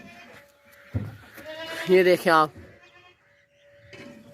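A plump dairy goat for sale lets out one loud, wavering bleat mid-clip, close by, while someone speaks briefly before and after it.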